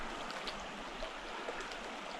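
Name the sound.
mountain creek flowing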